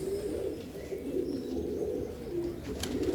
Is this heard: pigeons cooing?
yes